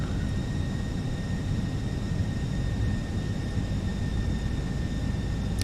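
An Airbus A320 in a flight simulator cruises with a constant dense engine roar, loud and unbroken, with faint steady high whine tones and no voices.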